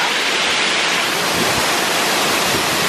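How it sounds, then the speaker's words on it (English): Namuang Waterfall on Koh Phangan, Thailand, pours in a steady, loud, full-bodied roar of rushing water that fills the whole clip without a break, and no voices are heard over it. "here's a waterfall."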